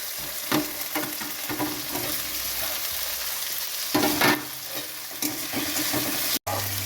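Tomato stir-fried in a pan with ginger, garlic and onion, a continuous sizzle broken by scraping spatula strokes and a couple of louder bursts, with no voices.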